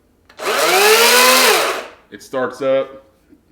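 A battery chainsaw whirs up to a loud, steady high-pitched spin for over a second, then winds down; a voice speaks briefly afterward.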